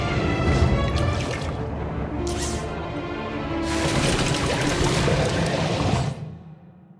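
A cleaning robot in the video game Beyond A Steel Sky refills its water tank with a loud, steady pouring gush that swells midway, then cuts off sharply and fades to a short tail.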